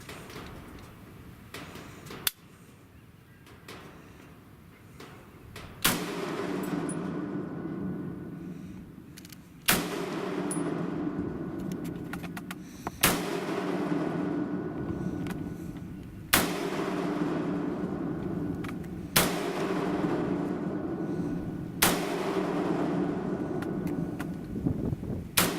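Gunshots at an outdoor shooting range on a range day, seven sharp loud reports spaced a few seconds apart over a steady low background rumble, with no talking.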